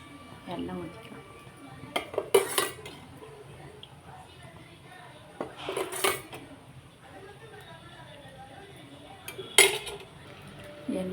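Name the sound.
clay pot placed on stove and oil poured in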